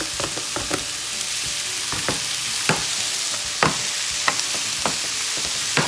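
Peppers with onions fry in a pan, giving a steady loud sizzle broken by sharp pops and crackles. No one speaks.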